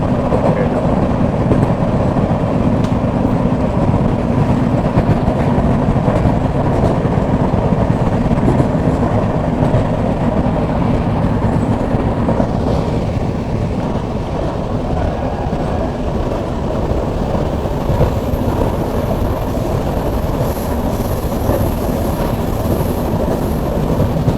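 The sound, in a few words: Kottayam–Nilambur Express train passing on opposite line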